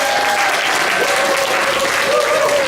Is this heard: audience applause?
yes